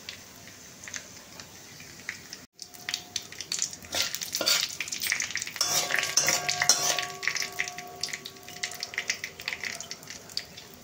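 Dried red chillies and bay leaves fry in hot oil for a mixed vegetable dish, giving a steady close sizzle with stirring and utensil scrapes. A brief silent gap comes early, and the frying gets louder and denser after that.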